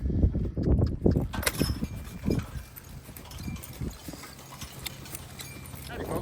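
Horse hooves clop on hard ground as a Belgian quarter horse draft-cross gelding walks past, a steady close rhythm of footfalls with someone talking over the first part.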